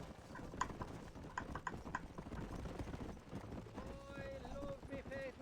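A horse in the video game Red Dead clip-clops along at a steady ridden pace, with rhythmic hoof beats under light game ambience and a brief whistling tone near the end.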